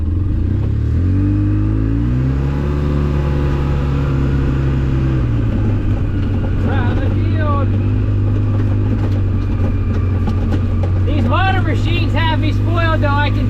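A Polaris RZR 800 S side-by-side engine drones loud and close as it shifts from reverse into high, pitch dropping then steadily climbing as it drives off, with someone talking over the engine at points.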